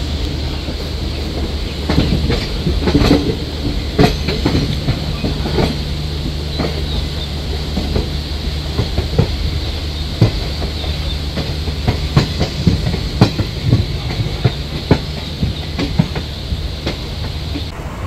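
Digha special fare train crossing onto the Dum Dum middle line, loud continuous rumble with repeated clickety-clack wheel beats over rail joints and a steady low hum throughout.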